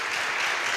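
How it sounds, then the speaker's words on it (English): Audience applause at a youth peace conference session, a brief dense wash of many hands clapping together, steady and fairly loud throughout the short burst. "An applause, please."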